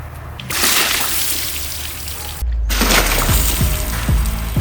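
Pressurized water blasting onto a computer from behind, a loud continuous hissing spray with sloshing and splashing that intensifies partway through, close and without speech.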